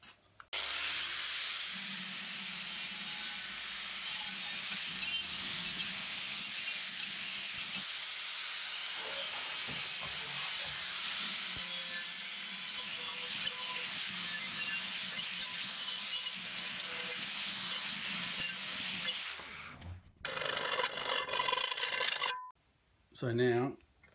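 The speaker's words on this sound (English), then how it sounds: "change over to the flap wheel and give it all a clean up." A flap wheel on an angle grinder scours a propane cylinder down to bare metal while it is turned into a knife-making forge, a loud, steady, high abrasive whine that runs unbroken for about twenty seconds before spinning down and stopping in short bursts.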